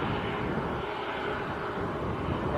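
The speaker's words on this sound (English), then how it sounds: "Air Tanker's A330, lining up full length" Air Tanker Airbus A330 lining up full length on the runway at Manchester airport, a steady, broad jet engine roar that holds at an even loudness throughout, with no voices over it.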